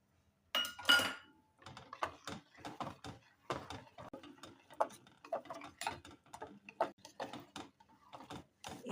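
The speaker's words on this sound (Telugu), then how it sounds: "ఇప్పుడు మనకు కావాల్సినంత పరిమాణంలో మజ్జిగ తీసుకొని ఇందాక చూపించిన శనగపిండిని ఇందులో బాగా కలపాలి." Buttermilk and gram flour stirred together in a bowl for a curry, producing close, rapid irregular clinks and scraping taps of a utensil against the bowl that continue steadily.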